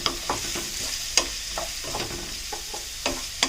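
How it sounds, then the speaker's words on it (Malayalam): Onions sautéing in a pan for a Kerala vegetable egg thoran, a steady close sizzle with repeated spoon scrapes and stirring clinks at irregular intervals, no talking. "കയ്യിൽ കൂട്ടി ഓണിയൻ നന്നായി വഴന്ന് വരട്ടെ."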